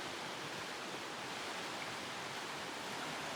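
Rushing alpine stream and waterfalls on snowy, rocky Mount Baker along the Coleman Deming route, a loud, steady broadband roar of churning water with no pauses.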